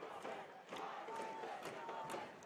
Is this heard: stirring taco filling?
no